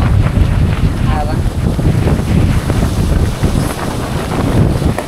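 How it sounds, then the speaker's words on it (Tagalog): Strong wind at a beach camp buffets the microphone in a continuous loud roaring rush, with waves in the background and voices faintly mixed in. "Galit na galit yung hangin."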